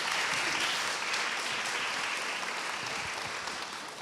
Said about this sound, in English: huge round of applause for Jenny.